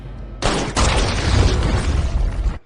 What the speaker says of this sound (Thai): ทางด้านอียอนที่โดนระเบิดเต็มๆก็ไม่เป็นอะไรนะครับ